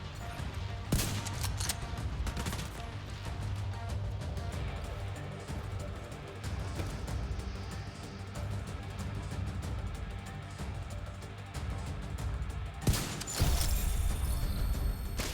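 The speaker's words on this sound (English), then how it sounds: "Rogue assault turret detected." Gunfire from a rogue assault turret in the video game The Division 2, a mid-level spread of rattling shots and sharp cracks with louder bursts near the start and end over constant background noise.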